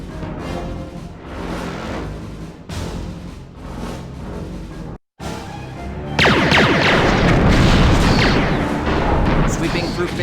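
Starship torpedo fire and explosions in the Star Trek Bridge Commander game, with deep booming blasts under a loud music and effects bed that swell into a heavy rumbling barrage after a brief cut to silence.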